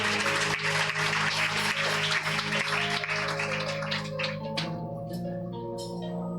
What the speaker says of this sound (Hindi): जोर से ताली आपको होनी चाहिए।